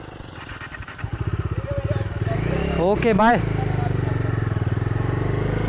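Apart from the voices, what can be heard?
motorcycles of passing bikers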